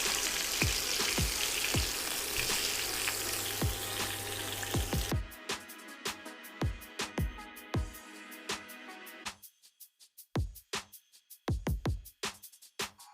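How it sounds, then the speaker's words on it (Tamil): Mandi chicken roasting in hot oil in a pan gives a dense, steady sizzle for about five seconds. The frying then cuts off and leaves sparse, sharp utensil clinks and taps with quiet gaps between them. "இப்போ பாருங்கள், மந்தி சிக்கன் நல்லா ரோஸ்ட் ஆகிட்டுருக்கு"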